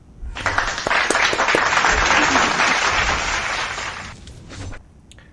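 Sustained round of applause from an audience, with dense clapping swelling in quickly, holding steady for about four seconds, then tapering off with a few scattered final claps.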